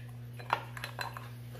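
A spoon clinks against a bowl a few times while stirring a thick honey, lemon and cinnamon mixture, faint and close over a low background hum.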